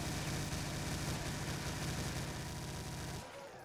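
Chaingunner enemies in Doom with the Brutal Doom mod firing, a dense rapid-fire machine-gun roar that runs continuously at high volume, then cuts off abruptly near the end.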